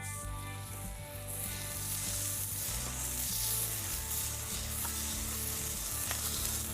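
An Aldi smashed burger patty cooking in a hot pan, giving off a steady, dense sizzle and crackle, close and continuous with a faint low hum beneath.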